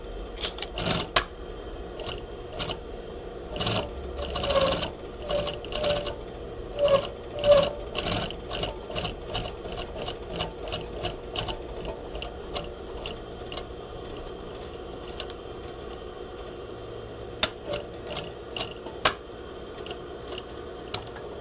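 A sewing machine stitches a pocket in short bursts, each run a quick rattling whir separated by pauses, with a few brief sharp clicks; fairly quiet and close, with no talking.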